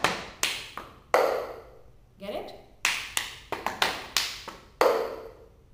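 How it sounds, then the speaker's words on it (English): A clapping rhythm with sharp claps and hard taps of a plastic cup set down on a table, a steady sequence of crisp percussive hits at close range, with a voice speaking briefly between beats. "Another clap. And then pick up this cup and put it on the side."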